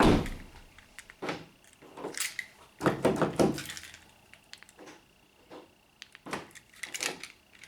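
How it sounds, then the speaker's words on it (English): Several mechanical clunks and thunks from a 2008-2012 Honda Accord rear door lock actuator and latch, spaced irregularly with brief whirring bursts, close and fairly loud. "we'll check the door lock actuator also"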